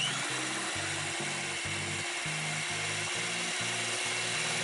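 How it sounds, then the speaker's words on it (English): Electric hand grinder mixing chocolate plum cake batter with oil, a close, loud buzzing motor pulsing in short repeated bursts. "Now we are grinding the solution with electric hand grinder."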